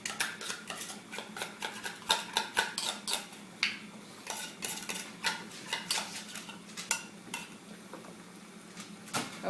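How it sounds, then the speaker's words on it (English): A utensil scrapes and taps against bowls as canned tuna is split into two portions, with quiet irregular clinks and scrapes at close range, soft and without talk. "I'm putting half in that bowl and half in this bowl"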